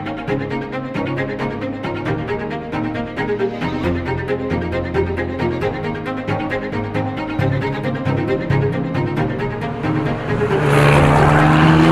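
A Dallara race car drives on the L'Anneau du Rhin circuit, its engine loud and close with a dense, rapid, pulsing buzz that rises and falls through gear changes, swelling into a louder roar at the end.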